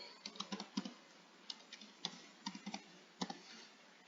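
Quiet, close keystrokes on a computer keyboard while entering a variable name in SPSS, irregular short clusters of clicks with brief pauses, alone without speech.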